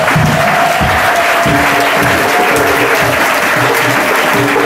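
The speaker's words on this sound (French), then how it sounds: "Applaudissons fort." A church congregation at a faith service applauds loudly, with a continuous dense wash of clapping and a faint crowd murmur underneath.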